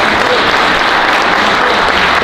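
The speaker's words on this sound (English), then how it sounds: "Let's give them a round of applause" An audience applauds the clerk staff at a Black History celebration, loud sustained clapping from many hands filling the room without pause.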